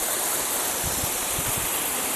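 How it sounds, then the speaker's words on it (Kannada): Water pours steadily over Fairy Falls, a waterfall in a cold forest area near Kodaikanal, Tamil Nadu, making a loud, constant broadband rush with a few soft low thumps and no voices. "ನೋಡಿ ಈ ಥರ ಇದೆ ವಾಟರ್ ಫ್ಲೋ."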